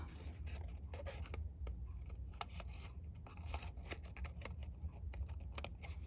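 Cardstock for a handmade card is trimmed, giving quiet, close, irregular snipping and scraping clicks repeated over several seconds against a soft background hum.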